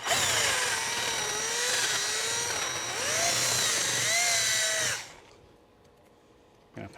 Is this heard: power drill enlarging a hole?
yes